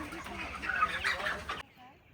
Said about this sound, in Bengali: ও, এটা মুরগি না?